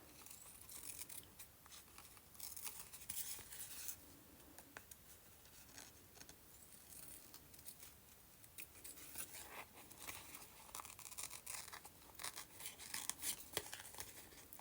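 Quiet, close snipping of scissors through thin cheesecloth-like fabric, a run of soft crisp cuts and rustles repeating irregularly without any talk.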